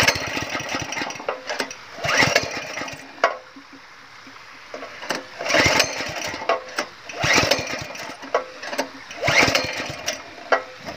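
Small pull-start engine for a garden sprinkler pump on a farm plot, several repeated bursts of sputtering cranking and brief revving separated by pauses, fairly close, with faint talk between attempts.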